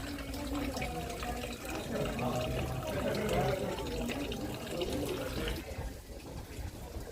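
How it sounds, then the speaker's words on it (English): Water flowing in a small fountain at the Alcazaba of Malaga, a steady trickling and splashing wash heard up close and fairly loud, continuous throughout. "And another little water fountain."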